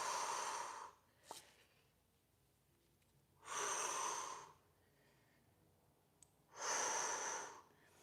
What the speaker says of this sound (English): Breathing in through the nose and out through the mouth for 2.